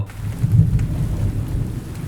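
Thunder rumbles low and continuously through steady rain for a storm scene. A swell comes near the middle, with no voices.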